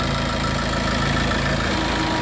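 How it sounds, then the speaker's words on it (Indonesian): A 2020 Tata Xenon XT 2.2 turbo diesel 4x4 engine idles with a dense, steady, close rumble and a faint knocking texture, unbroken throughout. "Mesin insya Allah ini kering, dan suaranya juga menurut saya masih halus banget."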